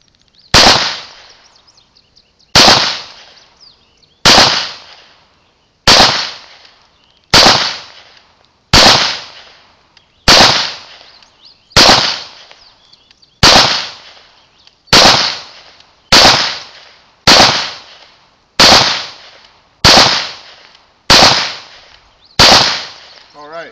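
Fifteen sharp, loud single shots from a Smith and Wesson SD9VE pistol, fired at a slow, fairly even pace about one and a half seconds apart, each crack decaying quickly into quiet.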